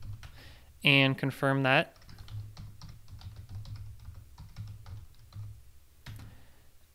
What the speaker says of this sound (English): I'll type in the password